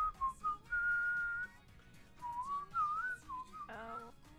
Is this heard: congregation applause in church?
no